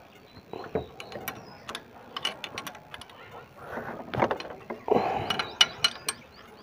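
Tappet adjuster work on a Powertrac 439 DS tractor engine during valve clearance setting brings quiet, close metallic ratcheting clicks and small tool taps in irregular bursts, with faint background noise.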